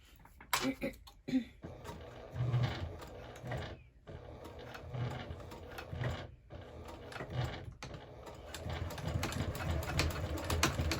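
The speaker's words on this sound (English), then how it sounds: "And now I can go ahead and stitch normally." A sewing machine stitches a crossbody bag in quick rhythmic mechanical bursts, close and moderately loud, pausing briefly between runs, with a voice talking over parts of it.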